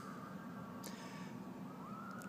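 A faint, distant police siren wails and slowly rises in pitch over a low background rumble; no one speaks.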